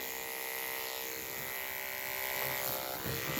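Electric horse clippers buzz steadily and loudly throughout, a continuous motor hum with a strong harmonic whine while trimming a horse's ear, the pitch wavering slightly as the blades work.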